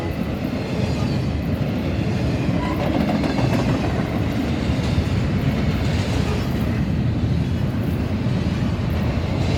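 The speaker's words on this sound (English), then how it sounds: "intermodal heading west. Some expos on here, UMAX, CSX, domestics, Pacers" A westbound intermodal freight train passes at Deshler behind two UP locomotives, hauling CSX and other containers. It makes a loud, continuous close rumble with rolling wheel noise that holds steady throughout.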